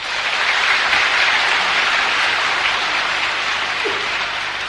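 An audience claps continuously, a dense and steady wash of applause that stays loud and even from start to finish with no pauses.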